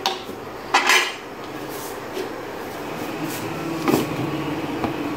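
Metal pot clatter as a lid goes onto a pot of simmering keema and chana dal, a couple of close clanks of lid on rim over a steady kitchen hum.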